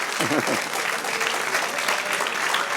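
Dense, sustained applause fills a church as the congregation claps together, a steady wash of many hands with a brief voice near the start.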